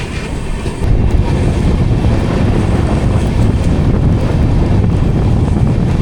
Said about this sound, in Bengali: আর এই আমাদের 22 কোচের কলকাতা সাইরাং এক্সপ্রেস চলেছে।